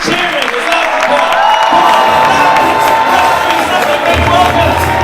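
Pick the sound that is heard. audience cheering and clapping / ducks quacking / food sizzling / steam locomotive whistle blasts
audience cheering and clapping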